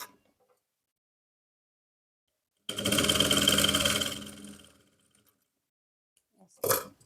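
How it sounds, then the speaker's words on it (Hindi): A sewing machine runs one burst of stitching along a trouser pocket, close and fairly loud for about two seconds, then a short second burst after a pause of silence. "ऐसे करने के बाद यहाँ से भी ऊपर से सिलाई लगा देंगे"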